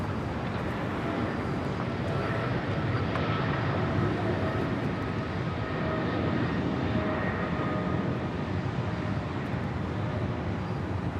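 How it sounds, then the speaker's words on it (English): A DHL Boeing 777 freighter operated by Singapore Airlines departs Los Angeles International Airport, its jet engines a steady, loud broadband roar that holds throughout with no breaks. "This is DHL, operated by Singapore Airlines, Flight 7403, departing to Honolulu on a 777 freighter"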